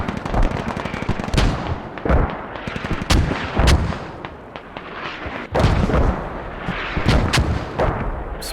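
Mortar rounds fire and land in the military shooter Squad, a series of heavy booming blasts roughly every second with rumbling tails and scattered gunfire in between, loud and dense.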